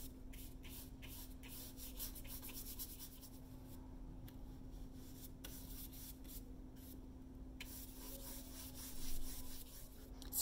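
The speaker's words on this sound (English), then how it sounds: "I'm changing the direction of my brush strokes to kind of conform around the various edges" A stiff bristle brush scratches thin alkyd-medium paint onto canvas in short, changing strokes, faint close-up rubbing with a low steady hum underneath and no talk.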